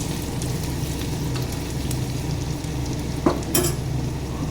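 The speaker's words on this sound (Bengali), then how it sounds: "আদাটাকে একটু লাল করে ভেজে নেব।" Chopped ginger fries in hot oil for a Louki Matar sabji, a steady close sizzle running throughout, with a brief utensil scrape near the end.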